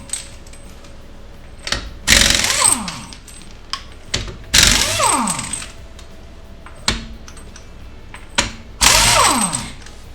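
An impact wrench taking lug nuts off a Fox Body Mustang's wheels, three loud rattling bursts spaced a couple of seconds apart, each followed by the clinking of loose nuts and parts.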